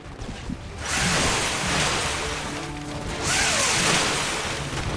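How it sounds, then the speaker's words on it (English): Two long, loud rushing whooshes of soldiers rappelling down ropes in the game Homefront, each swelling and fading over a couple of seconds, with no voices. "that was the sound of them repelling"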